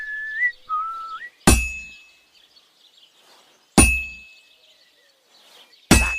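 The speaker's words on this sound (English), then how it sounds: "That's some nice whistling." Whistled tune of a few rising and steady notes, then three loud metallic hammer clangs on an anvil at a forge in Kingdom Come: Deliverance II, spaced about two seconds apart and each ringing out with a long decay.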